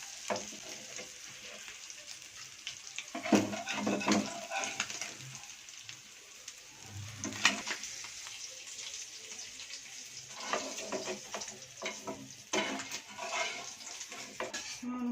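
Small anchovy fish fry in a little oil with curry leaves, giving a steady close sizzle and crackle with occasional louder spatters and stirring scrapes throughout, no talking.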